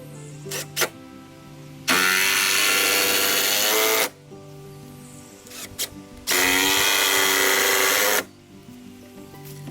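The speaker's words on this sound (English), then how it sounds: "We're gonna put two more screws in right here and just keep working our way down." Two sustained runs of a power drill driving screws into wood whine loudly for about two seconds each, with quiet clicks and handling sounds between them.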